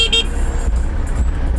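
Slow-moving traffic in Dakar, Senegal, with a low rumble of car engines and a brief car horn toot at the start, near and fairly loud.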